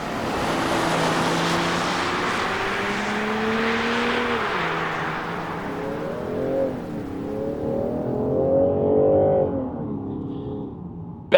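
A Land Rover Defender 110 P400 accelerates hard, its engine note climbing steadily, dipping at a gear change and then rising again through further shifts, loud and close throughout with no voices.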